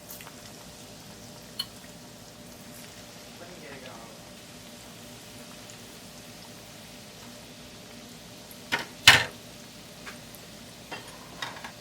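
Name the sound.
breaded chicken potato kofta frying in oil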